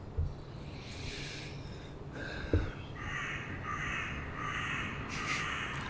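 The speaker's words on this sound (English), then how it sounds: "All of a sudden, a crow." A crow caws outdoors on the Scottish island of Islay, a series of harsh calls at moderate distance over steady wind and outdoor background noise.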